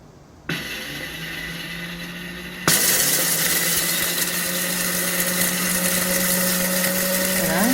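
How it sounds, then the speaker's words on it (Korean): An electric grinder whirs through dried chili peppers, grinding them to fine powder; the motor starts with a loud steady hum, then jumps to a harsher, louder roar that holds to the end. "곱게 고춧가루를 갈았습니다."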